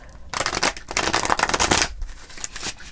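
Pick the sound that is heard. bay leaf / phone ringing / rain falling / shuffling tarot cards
shuffling tarot cards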